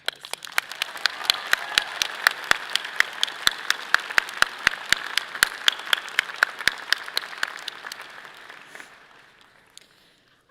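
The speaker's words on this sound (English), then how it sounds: "Another round of applause." A round of applause at a graduate school commencement ceremony: steady, fairly crisp clapping from many hands that carries on for several seconds, then thins out and fades near the end.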